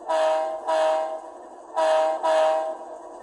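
Four short horn blasts in two pairs from an Athearn Genesis 2.0 Santa Fe C44-9W model locomotive with DCC sound, a bright, steady electronic tone with brief gaps between each blast, fairly loud and close.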